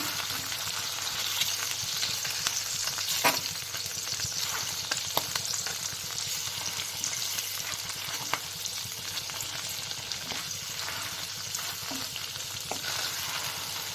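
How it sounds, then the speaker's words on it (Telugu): Goat brain pieces fry in a pan and are gently turned, making a steady close sizzle with faint occasional clicks of the spatula throughout. "వీటితో పాటు ఈ నమ్మినాలకి పీసెస్ని కూడా ఫ్రై చేసుకుంటున్నాను నెమ్మదిగా ఇలా టర్న్ చేసుకోండి లేకపోతే విరిగిపోతాయి"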